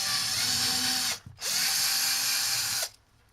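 Power drill driving a screw into an electronic cat tower: two sustained whining bursts of the motor, the first cut off briefly before starting again, close and loud, then a quiet stop.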